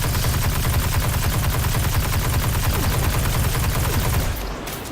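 The Hard Light auto rifle fires in Destiny 2, a rapid unbroken stream of loud, close automatic shots for several seconds before stopping abruptly.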